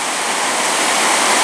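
Water rushing in an Irish river, a steady, loud, broadband wash of flow close by with no voices over it.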